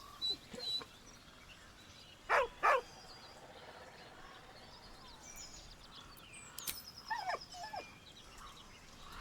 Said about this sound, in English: He whines, but remains rooted by the corpse's side.